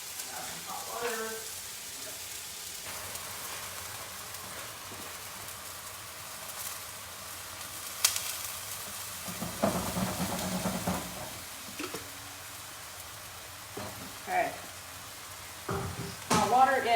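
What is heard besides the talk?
hot water added to pan sizzling for pan-fried noodle sauce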